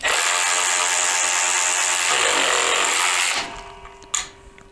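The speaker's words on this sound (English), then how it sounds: "I'm going to tighten these down as tight as I can possibly get them" A Ryobi ratchet wrench tightening bolts gives a loud, continuous mechanical whir for about three seconds. It then cuts off, followed by a single sharp knock.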